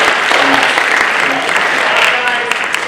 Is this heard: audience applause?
yes